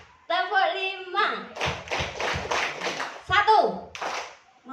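Children clap their hands in a counting game in a classroom, a series of sharp claps spaced out between spoken counts, with an adult voice leading and kids talking.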